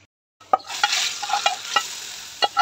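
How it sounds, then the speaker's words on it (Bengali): Dal tempered with garlic and onion sizzles loudly as the hot tempering hits the pot, an abrupt burst of hissing after a silent moment, with several sharp spoon clinks and stirring knocks over the sizzle. "রসুন পেঁয়াজ দিয়ে ডাল বাগার দিয়ে দিলাম"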